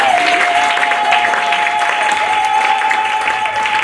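A church congregation applauds and cheers, dense sustained clapping with voices rising throughout, a long held shout or sung tone running above the crowd noise.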